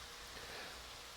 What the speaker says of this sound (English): I'm going to add about half of the chicken stock and just drizzle it across different areas here.